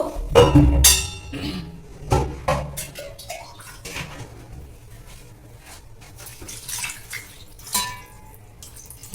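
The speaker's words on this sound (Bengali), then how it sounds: "এবার আমি এতে জল দিয়ে দেব" Water is poured into a bowl of chopped pumpkin, skin still on, with a loud splashing rush at first that settles into softer trickles and small knocks.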